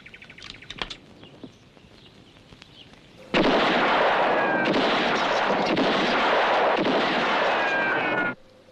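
A gunshot rings out in a 1965 western film, with a sudden loud, broad blast that holds for several seconds and follows quieter scattered sounds and bird chirps.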